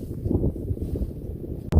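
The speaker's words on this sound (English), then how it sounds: "it's very windy now because we're on the summit" Strong wind buffets the microphone on a foggy hill summit in the Cheviot Hills in winter, a continuous low roaring rumble with a sharp gust near the end.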